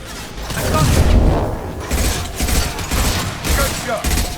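Weapons fire in the Mass Effect 2 video game, several loud bursts of shots separated by brief gaps, close and heavy, with mechanical clatter mixed in.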